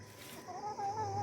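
Chickens cluck softly in a backyard chicken run, a short, faint run of murmuring calls close by.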